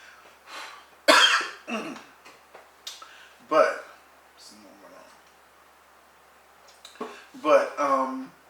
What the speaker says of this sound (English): I don't know why I'm coughing now.